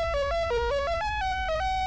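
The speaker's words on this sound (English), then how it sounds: "the TAT Communications logo, which has a fanfare that sounds like this." The TAT Communications logo fanfare plays as a short, loud electronic melody of stepped tones, bright and tonal over a low rumble, lasting under two seconds.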